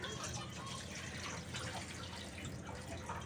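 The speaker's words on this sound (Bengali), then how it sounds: "আর এখানে আমি জলটা দিয়ে দিচ্ছি" Water poured into a pot for jaggery syrup, heard as a steady, fairly faint liquid splash and trickle with no talking.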